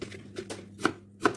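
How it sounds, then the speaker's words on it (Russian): A knife slices an onion into half-rings on a board in a few quiet, crisp cuts at an uneven pace, with no other sounds. "Нарезаю лук"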